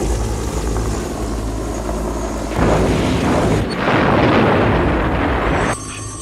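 A military gunship helicopter during the Philippine uprising roars loudly overhead, its rotor thunder swelling into heavier rumbling blasts before easing slightly at the end.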